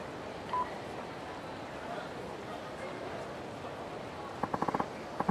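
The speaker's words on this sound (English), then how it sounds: "Phone call. At a time like this, you're ruining the moment." An in-game phone rings in Yakuza 4 Remastered, with a quick burst of electronic beeping pulses near the end over steady game ambience, after a quiet stretch.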